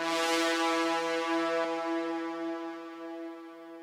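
A sustained synth pad for a drum and bass intro, a single held chord with a bright airy attack that slowly fades and darkens over a few seconds, smooth and steady with no drums.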